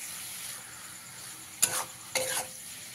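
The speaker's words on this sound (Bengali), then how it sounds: "3 থেকে 4 মিনিট ডিমটা দিয়ে আমি ভালো করে সবজির সঙ্গে ভেজে নিয়েছি" Eggs frying with vegetables in a pan, a soft steady sizzle broken by two sharp stirring scrapes of a spatula near the end, close by.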